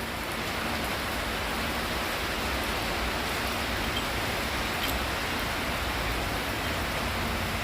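Rain falls steadily during heavy flooding, a dense, even hiss that stays constant and fairly close throughout with no voices.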